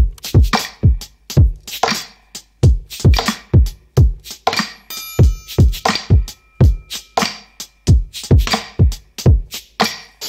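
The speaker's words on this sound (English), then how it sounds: "Right now I bounced out the whole thing and sent it through my tape machine" Drum track bounced and run through a tape machine, heard alone as a steady, punchy beat of repeated kicks and snares with a slightly saturated, close sound.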